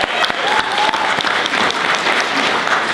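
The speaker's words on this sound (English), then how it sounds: "feel free to clap. I love clapping." An audience at an East Coast regional home-business network event breaks into loud, dense applause that fills the room from start to finish.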